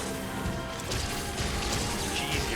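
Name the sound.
cannon shot smashing a monster, from a video game (Monster Hunter)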